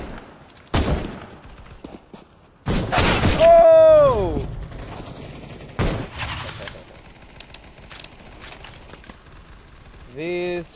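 Gunfire crackles in the video game Counter-Strike, with several sharp shots and a dense burst, alongside other game sounds and a voice nearby.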